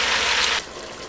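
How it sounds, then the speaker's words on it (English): Beef stew meat browns in a pot with a loud, bright sizzling hiss that stops abruptly partway through, leaving a quieter background. "I'm going to brown this meat off"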